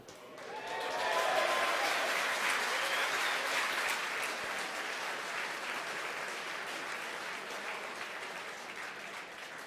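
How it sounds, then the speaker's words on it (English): Staff in a launch control room applaud after fairing separation during a satellite launch, a broad wash of clapping swelling up within the first second and continuing steadily at moderate loudness throughout. "Again, the applause."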